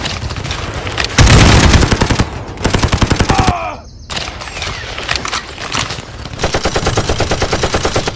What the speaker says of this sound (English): Look out! Enemy machine gunner!